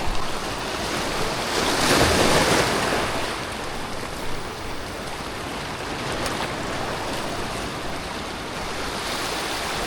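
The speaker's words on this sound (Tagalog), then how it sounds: "palakas-lakas lang yan ng alon" Ocean waves surge and wash continuously, swelling loudest early on before settling into a steady roar, with wind noise mixed in and no voices.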